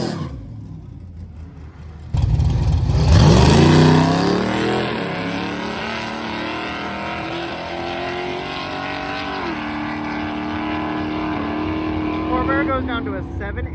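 A heavily customized diesel truck launches at a drag race, its engine roaring loudly and the turbo spooling up into a rising whine, then holding a sustained, slightly fading drone as it pulls away.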